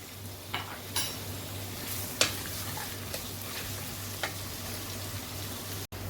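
Onions or similar fry on high flame in a pan for chicken haleem, a steady, fairly quiet sizzle with occasional sharp spatula scrapes and taps at irregular intervals.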